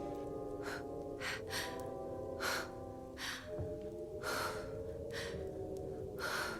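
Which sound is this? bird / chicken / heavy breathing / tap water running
heavy breathing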